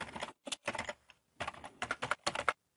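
Quick bursts of typing on a computer keyboard, several clusters of key presses separated by short pauses, close and fairly quiet, with no voice.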